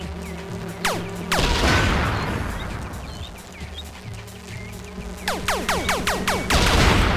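Rapid bursts of gunfire in the video game Buck Bumble crackle and boom, with sharp shots at the start and a quick volley near the end over a rumbling background.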